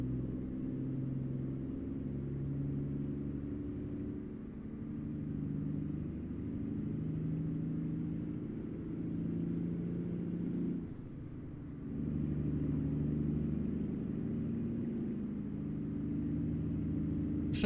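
A truck engine in American Truck Simulator idles and revs steadily with a low rumble, pitch rising and falling slightly, running continuously without other sounds.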